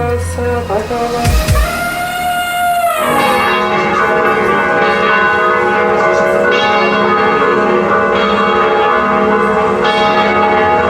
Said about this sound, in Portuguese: os sinos das igrejas de Mariana começaram a tocar